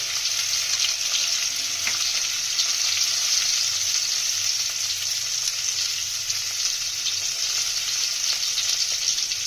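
Potatoes frying in oil with turmeric and salt give a loud, unbroken sizzling hiss, dense and steady from start to finish, with faint occasional crackles and no voices.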